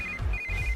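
A telephone in a dubbed South Indian movie scene rings with a short electronic ringtone. Two bright tonal bursts sound close and clear over a low background hum.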